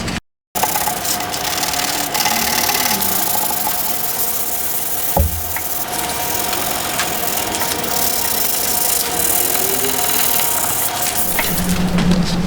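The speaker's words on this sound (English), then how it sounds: "so let me get sanding." A power sander grinds steadily across a wooden mid-century tabletop being stripped of old stain, a loud continuous buzzing rasp with a short break near the start and a brief knock midway.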